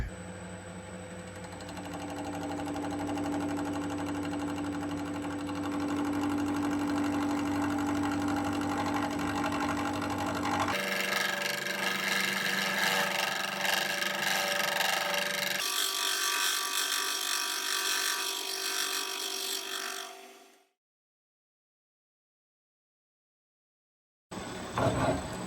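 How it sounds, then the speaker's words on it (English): An abrasive wheel cutting through a piece of steel in a machine shop, a loud steady grinding whine that shifts pitch twice, then stops abruptly and falls silent before a brief burst of noise returns. "So I'm trying to cut a piece of steel."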